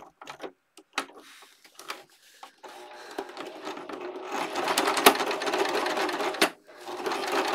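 A domestic sewing machine stitches a fabric pencil case, first in a few short taps, then running steadily for several seconds, pausing briefly and starting up again; the sound is close and clear, with no talking.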